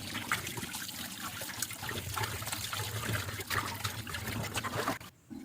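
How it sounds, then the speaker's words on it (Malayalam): Water runs steadily from a tap while fish is scrubbed with salt and washed in a kitchen, a close continuous trickle and splash that cuts off abruptly near the end. "ഉപ്പും ഇട്ട് നന്നായി തേച്ച് കഴുകിയെടുക്കാം."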